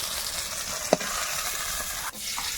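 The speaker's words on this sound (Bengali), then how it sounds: "একটু রসুন কুচি দিলাম তেলের মধ্যে" Chopped garlic sizzles in hot oil, a steady close frying hiss with a brief sharp clink partway through and a slight dip near the end.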